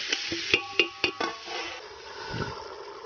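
A spoon stirs food in a pot at a village cookout, giving several sharp scraping clinks in quick succession followed by a softer shuffle, close by with no talk.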